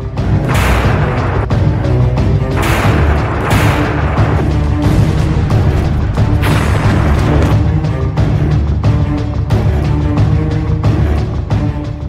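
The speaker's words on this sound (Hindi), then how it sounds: "एक साथ ड्रोन, रॉकेट और मिसाइलों के ट्रिपल अटैक से कीव का एयर डिफेंस सिस्टम रोक नहीं पा रहा है" Explosions from a combined drone, rocket and missile attack on Kyiv, Ukraine, with repeated heavy booms and blasts rolling one after another over a dense, loud rumbling background.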